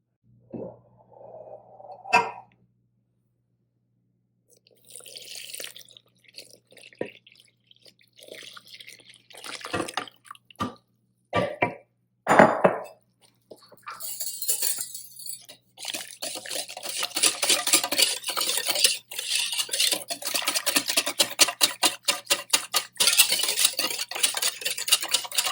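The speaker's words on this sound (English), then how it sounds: "and I'm going to stir it up" Cold milk is stirred or whisked in a bowl, starting with scattered clinks and swishes and building into fast, continuous rhythmic whisking that grows louder toward the end, with no voices.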